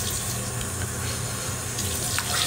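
Warm tap water runs steadily into a sink for washing the face, a continuous close hiss and splash with no pauses.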